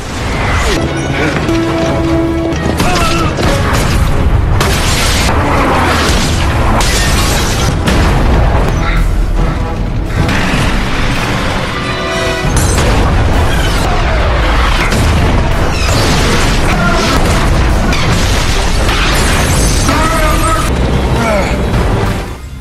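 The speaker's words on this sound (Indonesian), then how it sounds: "tembakan tank yang terus-menerus membibiknya" Repeated heavy booms and crashes of tank cannon fire and explosions, dense and loud throughout, with brief voices mixed into the chaos.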